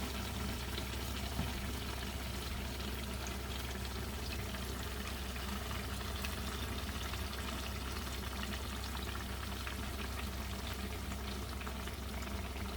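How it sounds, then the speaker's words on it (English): Steady, dense crackling sizzle of food deep frying in hot peanut oil, continuous and close throughout with no voices. "I like frying in peanut oil the best"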